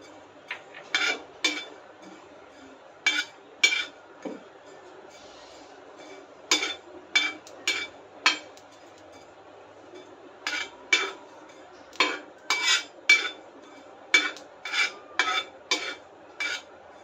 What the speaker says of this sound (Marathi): आता आपण बडीशोप भाजून घेऊया